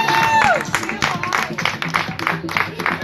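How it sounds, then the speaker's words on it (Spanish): Audience applause at a bike trial exhibition at a motorcycle dealership, loud irregular bursts of clapping with crowd noise and cheering. "Fuerte aplauso para Marta"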